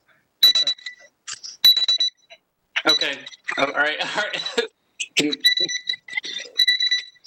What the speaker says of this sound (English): it's a pretty intense alarm